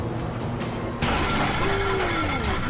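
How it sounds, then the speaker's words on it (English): A damaged car engine in Grand Theft Auto V struggles and sputters, a rough steady drone that surges louder partway through, with a faint rising whine over it. "Now that doesn't sound good. Hey, that's the engine, man."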